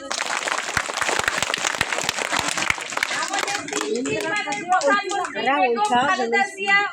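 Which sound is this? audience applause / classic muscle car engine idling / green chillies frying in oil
audience applause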